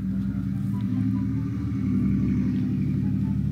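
A newer pickup truck fitted with a loud aftermarket exhaust idles in a neighbouring driveway, a steady, deep, throbbing rumble that stays loud and continuous throughout.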